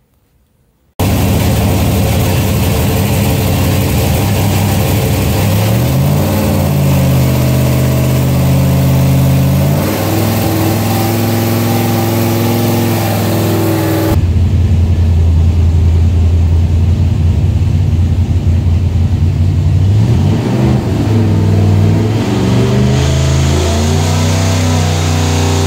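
A carbureted V8 on a dyno during its fifth carburetor comparison pull roars loudly, revving up through several rising sweeps, then dropping back and climbing again, close and continuous without speech.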